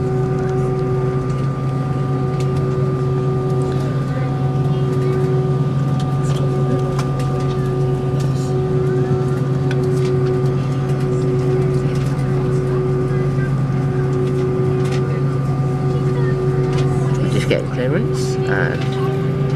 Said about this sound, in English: We are now taking off from Gibraltar.